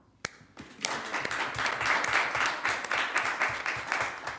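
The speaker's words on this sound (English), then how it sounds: "And we'll clap." Audience at a city council meeting claps for EMS and public works employees, starting with a few scattered hands, then building into steady, moderately loud applause that carries through to the end.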